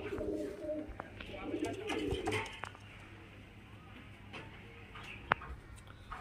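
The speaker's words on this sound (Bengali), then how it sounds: "এখানে দেখতে পাচ্ছেন একটা নর পায়রা আছে" Pigeons, among them a male bird, give low, soft, repeated coos close by, with faint voices and light clicks in the background.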